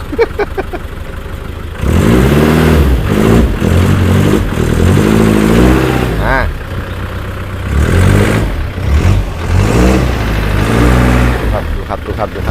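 A van engine starts and runs at idle on a morning, a steady mid-pitched hum close by with someone talking over most of it.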